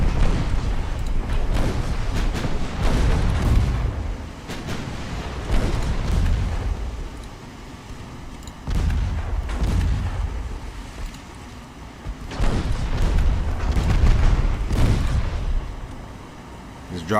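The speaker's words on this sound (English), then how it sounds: "Just drop broadsides right into her." Warship broadside artillery fire in the naval battle game Ultimate Admiral: Dreadnoughts, with repeated heavy booming salvos rolling in several loud bursts and rumbling decays, under a voice talking intermittently.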